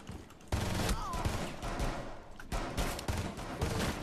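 Pistol shots in Rainbow Six Siege during a match, sharp reports that come in bursts at a moderate distance, mixed with game noise and a few voices talking.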